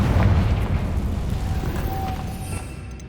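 A Confringo fire spell detonating in Hogwarts Legacy sends out a deep, rumbling boom that swells at once and slowly decays over a few seconds, with a faint tonal whine lingering in the tail.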